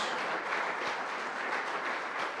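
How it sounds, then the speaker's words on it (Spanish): A church congregation applauds together, a steady, even wash of clapping that holds at moderate level for a couple of seconds with no voices over it. "Denle un aplauso al Señor, a su palabra"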